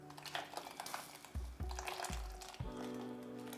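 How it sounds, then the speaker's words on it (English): Potatoes slipped into a pot of salted boiling water, giving a few soft plops and splashes over a steady bubbling hiss, close and moderately loud with no talking. "you wanna carefully add your potatoes to the boiling water"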